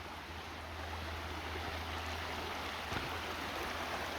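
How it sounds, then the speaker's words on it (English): A small waterfall on a valley trail gives a steady, continuous rush of flowing water at moderate distance, unbroken throughout with no voices. "Little waterfall drop there."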